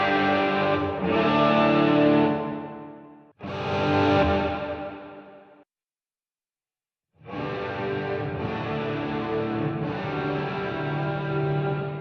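Guitar played through a Strymon BigSky reverb pedal set fully wet, with no dry signal: washed-out, sustained chords in long swelling phrases, broken by a brief silence, loud and alone.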